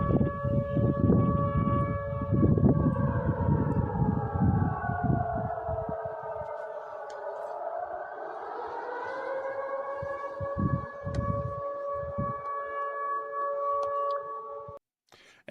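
Civil defense air raid siren wailing over Oryol, Russia during an attack, a long rising and falling tone heard from a distance over low rumbling background noise, with no talk.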